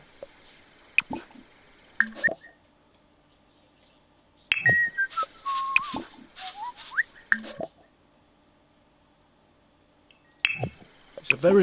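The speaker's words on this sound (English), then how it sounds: "Only whistles when he's fertilising." A Sim whistles in bursts while fertilising plants in The Sims 4: short, sliding whistled notes separated by quiet gaps, mixed with small squishy plops and game sounds.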